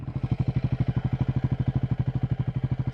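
A Triumph Scrambler 400X motorcycle engine idles close up, its single-cylinder thump pulsing in a steady, fast, even rhythm with a slight metallic clatter on top, heard alone throughout.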